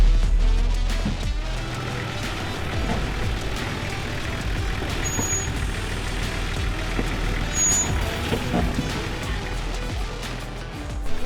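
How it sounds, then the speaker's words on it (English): An off-road vehicle brakes hard on a steep downhill, a loud continuous rumbling roar of engine and drivetrain with low grinding and creaking over rough ground, steady throughout and close. "That's me hard on the brakes."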